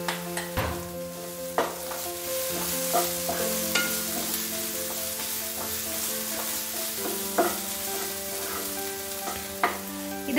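Sautéing with a pinch of turmeric powder in a pan while making wheat dosa, a steady sizzle punctuated by regular spoon scrapes and taps against the metal.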